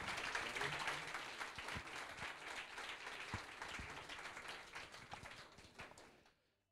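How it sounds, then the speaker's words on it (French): An audience claps at a French radio awards ceremony for a trophy winner, dense sustained applause of many hands that slowly thins and fades out at the end, faint voices under it. "Et ça mérite les applaudissements du public."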